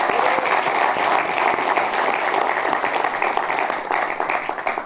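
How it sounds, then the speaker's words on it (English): An audience at a final of an African innovation challenge gives the presenting speakers a sustained round of applause, thick and even from start to finish, filling the room without any talk over it. "I think they deserve another round of applause because they did quite well."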